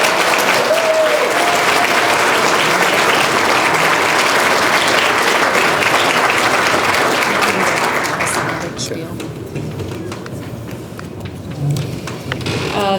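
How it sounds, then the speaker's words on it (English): A large crowd at an awards banquet claps steadily in loud, sustained applause that thins out and fades toward the end. "Give them a round of applause."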